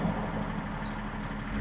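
BMW X5 engine with a Race Chip response control unit in its middle throttle mode, revving with a steady, close low rumble and broadband mechanical noise throughout, with no talk.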